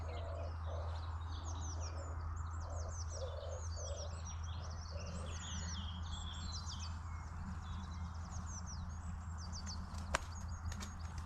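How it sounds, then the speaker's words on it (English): Wood pigeons cooing at dawn beside a tench fishing lake, a soft repeated rhythmic coo in the middle distance amid a busy chorus of chirping songbirds over a steady low hum. "No shortage of wood pigeon."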